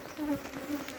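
Honey bees buzz around an open hive in March, a brief close droning hum with shifting pitch.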